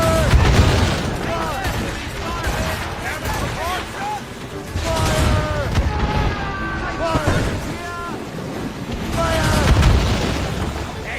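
Ship cannons fire in Assassin's Creed Rogue, several heavy booms rolling out at intervals between shouting voices and battle noise.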